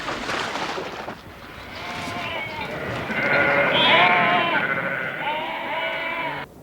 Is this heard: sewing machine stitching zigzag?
no